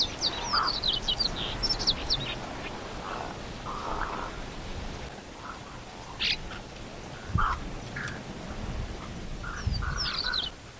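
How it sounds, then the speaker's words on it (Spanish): A crowded flock of wild birds bickers at a shrinking stream in Gorchs, Buenos Aires, with short harsh calls, squawks and chatter bursting out repeatedly over a constant murmur of distant birds. "algunas aves riñen con sus vecinas"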